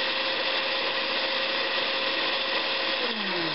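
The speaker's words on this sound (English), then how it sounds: "Just pulse it up a little bit. Make sure it's all blended in together." A standard kitchen blender whirs loudly and continuously while pulsing a green smoothie, its motor pitch sliding downward at the end as it winds down; no one speaks.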